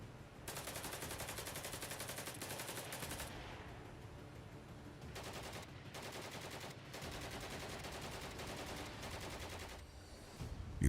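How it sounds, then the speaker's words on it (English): Sustained automatic gunfire from combat between Russian and Ukrainian soldiers, dense rapid bursts that run almost nonstop, loud and close, with brief pauses between volleys. "one of the Russians spots a Ukrainian soldier and opens fire"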